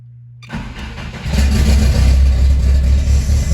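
A turbocharged 1994 Volkswagen Gol GL is started: a brief cranking, then the engine catches and settles into a loud, rough, steady idle, heard up close with no talking.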